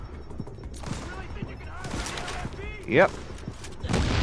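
Rapid video game gunfire rattles in bursts amid shooter combat sounds and a brief whooshing effect, with a person talking over the action.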